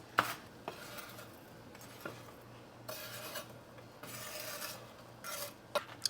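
Toasted crispy bread cubes for homemade turkey stuffing scraped and tossed in a pan, a dry raspy crunching with a few sharper clicks and scrapes, close and fairly quiet with no talk.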